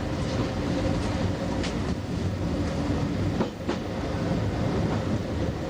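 A British Rail Class 205 diesel-electric multiple unit train rumbles along steadily with a constant low diesel roar and faint rhythmic clatter from the wheels, heard up close throughout.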